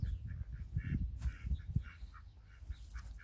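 Indian runner ducks in a vegetable garden give repeated short nasal quacks and honks, several birds calling in overlapping bursts at moderate distance.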